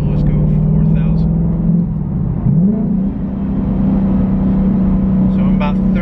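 A supercharged 2021 Ford Mustang Mach 1 idles and cruises with a loud, steady low engine drone heard from inside the car, with a brief dip and rise in pitch, while someone talks over it.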